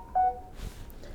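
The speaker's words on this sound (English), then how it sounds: "that's the phone" A telephone gives one short, clear electronic beep near the start, then a quieter, lower sound follows in a quiet room. Nobody speaks.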